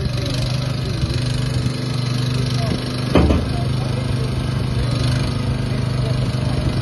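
Tractor engine running steadily while lowering a reel, a continuous mid-pitched drone with one short louder knock partway through.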